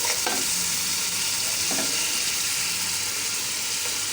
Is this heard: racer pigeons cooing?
no